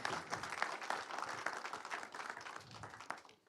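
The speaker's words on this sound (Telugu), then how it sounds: "గట్టిగా ఒకసారి క్లాప్స్ అండి" An audience at a movie teaser launch event applauds, dense continuous clapping from a crowd heard at a moderate distance throughout.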